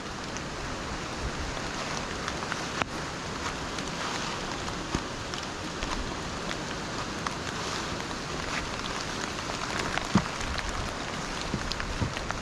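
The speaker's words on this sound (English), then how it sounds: "the waterfall looks like it's running quite fast" The fast-running waterfall at Gayle gives a soft, steady rushing hiss, fairly distant and even, with faint wind noise and a few small knocks.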